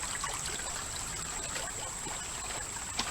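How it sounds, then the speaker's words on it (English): A small mountain creek trickles and flows steadily over rocks, a continuous close-up wash of water with no voices. "This creek is neat though."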